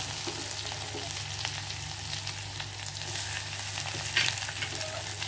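Onions frying with ginger garlic paste and green chilli in a pan for a palak biryani, giving a steady, close, continuous sizzle with light crackle, no talk.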